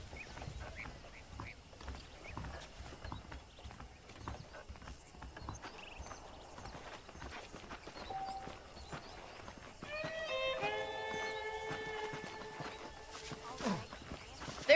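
Horses walking in the Western video game Red Dead Redemption, a steady clip-clop of hooves under ambient game sound and music, with a snort or whinny near the end.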